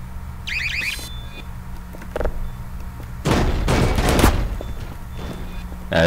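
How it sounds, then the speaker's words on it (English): A grenade blast in the video game Half-Life 2: a sudden loud, rough roar of debris that rumbles for about a second, following a quieter stretch of electronic beeps and scattered clatter. "Another grenade!"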